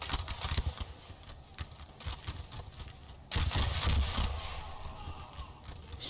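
Infantry gunfire crackles in Napoleon Total War, a dense, rapid rattle of musket volleys that rises and falls and gets louder in the second half.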